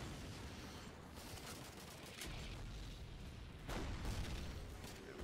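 Explosions and gunfire in the Call of Duty 2 war game form a dense, continuous rumble with heavier booms surging through it at a modest level, and no talk is heard.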